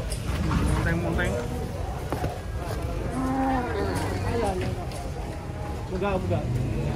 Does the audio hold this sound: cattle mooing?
yes